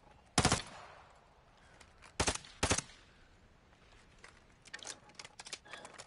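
Semi-automatic sniper rifle in Warzone 2 firing a handful of sharp, loud shots, one alone and then two in close succession, followed by quieter scattered pops and clatter.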